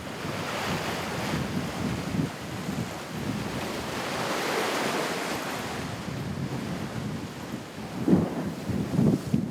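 Sea waves wash and surge continuously around a sailing ship on a voyage south, with a steady broadband roar of surf and wind noise on the microphone, a couple of louder breaking swells near the end.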